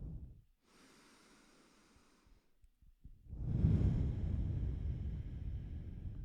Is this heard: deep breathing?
yes